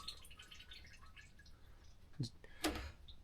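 Water spurting from the radiator hose of a 1981 squarebody pickup fitted with an aluminum radiator: faint scattered drips, then two brief, sharp splashing bursts close by near the end over a quiet background.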